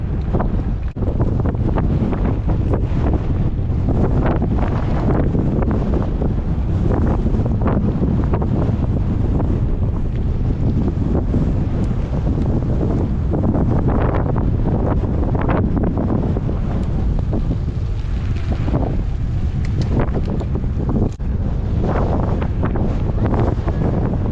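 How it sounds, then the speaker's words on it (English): Strong headwind roaring across the microphone of a cyclist riding a 100-mile gravel race, a loud continuous buffeting rumble with gusty surges throughout. "That's why I'm fighting now, to just get through this headwind."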